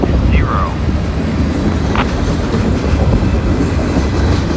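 Steady low rumble of a CSX freight train rolling past on the rails, with continuous wheel noise and wind buffeting the microphone, plus a brief squeal.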